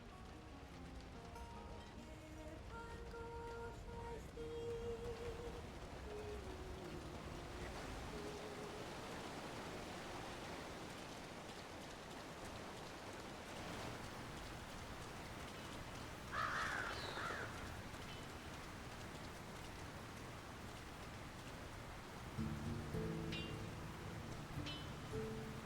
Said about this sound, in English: Who could live in a town where it's always raining?